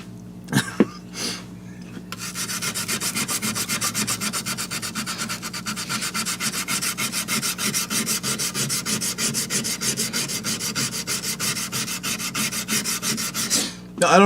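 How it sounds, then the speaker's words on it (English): Boride mold polishing stones rubbed by hand in steady back-and-forth sanding strokes, a continuous close, rasping scrape with a fast regular rhythm, preceded by a few brief knocks and handling sounds. "I've always really enjoyed the sound that these stones make. These are those boride mold polishing stones."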